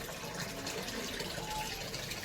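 Water runs steadily from a tap into a container, a constant close-up gushing rush that holds at an even level with no break throughout.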